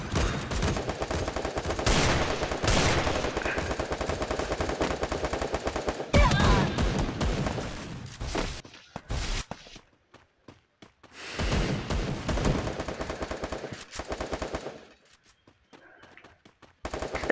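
Rapid automatic gunfire in the shooter game Free Fire, loud dense bursts of shots with short pauses and near-silent gaps between volleys.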